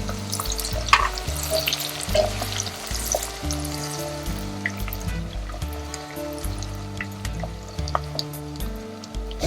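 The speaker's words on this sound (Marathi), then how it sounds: "असा 1-2-3 मिनिटं कांदा भाजून घ्यायचा, असा गुलाबी रंगावर थोडासा ब्राऊन" Chopped onion frying in a pan for chicken pulao gives a steady, close sizzle with occasional stirring scrapes, while background music plays softly underneath throughout.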